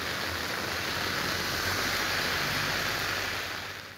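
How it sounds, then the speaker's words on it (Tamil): Heavy rain falling on the villages around Ulundurpet in Tamil Nadu, a dense, steady hiss that holds evenly throughout before easing slightly at the end, with no voices. "உளுந்தூர்பேட்டை மற்றும் அதை சுற்றியுள்ள பல்வேறு கிராமங்களில் கனமழை பெய்தது"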